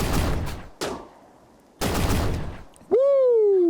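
Gunfire in a shooter video game, with three loud bursts of rapid shots separated by short pauses, followed by a ringing, falling tonal whine at the end.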